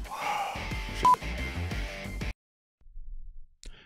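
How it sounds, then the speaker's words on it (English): Comedy sound effect of telephone dialing, a quick run of touch-tone beeps layered with music and voices, ending abruptly into silence before faint sounds return. "Get my lawyer on the phone, Nick."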